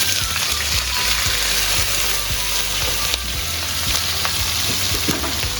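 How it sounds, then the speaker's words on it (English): Steady, loud sizzling of prawns frying in hot vegetable oil, with occasional pops and crackles, close up and continuous, no talking. "Just frying the prawns."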